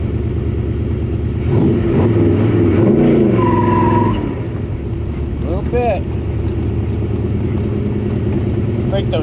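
A car engine revs hard for a tire burnout, a loud rumbling roar rising and holding for a few seconds before dropping to a rough idle, with someone speaking briefly over it.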